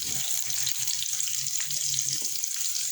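Sliced onions frying in a pan for a home-cooked lunch dish, giving a steady, close hiss and crackle that runs unbroken throughout, with no talking.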